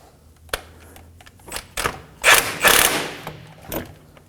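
A ratchet with a 19mm socket snugs down the crankshaft pulley bolt on an Acura MDX, giving a few close, sharp clicking bursts separated by short pauses, with no talk.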